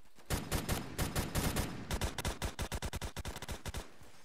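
Rapid bursts of video game gunfire crackle in quick succession, first in dense clusters and then as a steady rhythmic string of individual shots, fairly close and without any talk over them.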